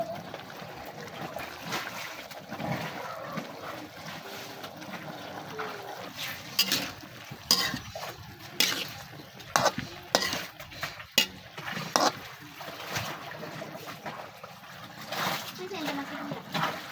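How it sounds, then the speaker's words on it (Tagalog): Cabbage is stirred into a pot of milkfish pochero, giving soft irregular spoon scrapes, light clatter and wet splashing at moderate distance, with a voice speaking intermittently. "Ilagay na rin natin yung ating repolyo at haluin muna natin itong mabuti."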